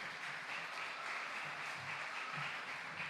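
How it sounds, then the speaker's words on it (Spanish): Church congregation applauding during a service, a soft, steady wash of clapping that stays even and fairly distant throughout. "Denle un aplauso al Señor porque Dios ha sido bueno."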